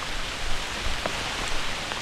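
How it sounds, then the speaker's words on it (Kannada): Heavy monsoon rain pours down near a waterfall at Chorla Ghat, a dense steady hiss of falling water with scattered droplet patters and no voices. "ಏನು ಮಳೆ ಬರಾಕತ್ತೈತೆ"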